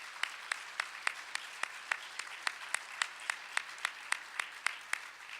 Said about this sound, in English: we should owe them a round of applause